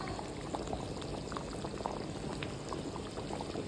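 A pot of karunai kizhangu kara kuzhambu (yam curry) simmers with oil separating on top, bubbling with soft continuous popping and small spatters while being stirred, at a steady low level with no voices.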